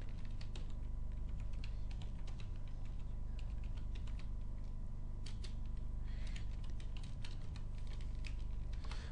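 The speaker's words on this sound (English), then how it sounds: "we will type some domain name" Rapid, steady clicking of fingers typing a domain name on a computer keyboard, close and fairly quiet, with keystrokes running continuously without pauses and no speech.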